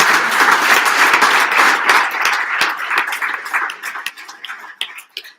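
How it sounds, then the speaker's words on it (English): A banquet audience at a Hall of Fame event applauds loudly and densely at first, then the clapping thins out into scattered, separate claps before stopping. "So how about a round of applause?"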